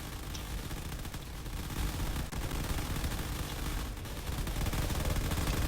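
Point defense guns in the space game Drone Wars fire nonstop at incoming torpedoes, a dense, steady crackle of rapid gunfire that runs for the whole stretch with no pauses.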